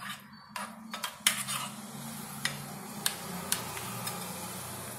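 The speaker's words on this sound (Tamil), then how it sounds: "மிக்ஸ் பண்ணிட்டுருக்கோங்க" A spoon clinks and scrapes against a pot while summer pachadi with cooked pumpkin pieces is mixed, a handful of sharp taps and knocks spread irregularly over a low steady background hum.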